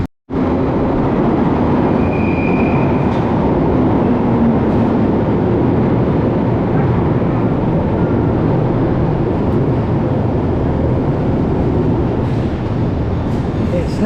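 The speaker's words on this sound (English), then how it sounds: "we're going to be waiting for the train to arrive" A London Underground Bakerloo line train pulling into Paddington, a steady loud rumble and rush of wheels filling the platform throughout, with a brief high squeal near the start and faint voices in the background.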